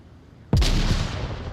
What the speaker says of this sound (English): 3 frag grenades.